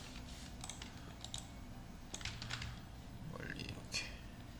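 Scattered keyboard clicks from keyboard shortcuts pressed on a computer keyboard, faint and irregular, under someone speaking quietly.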